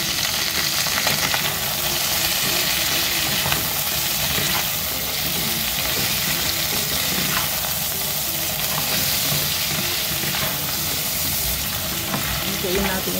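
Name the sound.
crabs added to pan, frying for ginataang crabs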